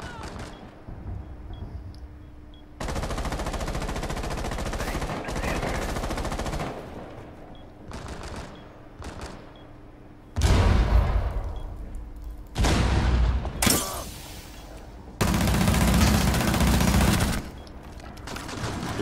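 Rapid automatic SMG fire in Rainbow Six Siege during a bank map round, coming in several loud sustained bursts of varying length separated by brief pauses, with heavy impacts and booms mixed in.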